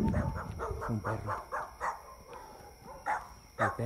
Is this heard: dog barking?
yes